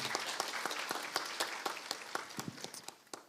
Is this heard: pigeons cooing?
no